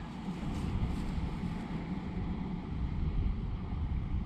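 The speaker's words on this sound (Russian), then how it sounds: "О, баркас плывет, баркасу дорога." A motor launch passes along a river, a steady low engine rumble mixed with broadband wind buffeting on the microphone, continuous and fairly loud throughout with a slight swell near the end.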